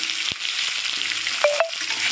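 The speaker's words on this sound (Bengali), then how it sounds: "এবার আমি দিয়ে দেবো সবজিগুলো হালকা করে ভেজে নিতে হবে" Pointed gourd, teasel gourd, snake gourd and potato frying in a pan, a quiet steady sizzle with a couple of brief utensil clinks, no talk.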